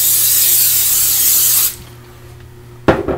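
A cooking spray can hisses loudly and steadily for about a second and a half while greasing a cookware bowl, followed by a short pause and a brief clatter at close range, with no talking.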